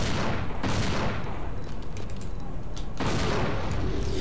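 Gunfire from the video game Dino Crisis 2 comes as two loud, broad bursts separated by a steady, noisy game background.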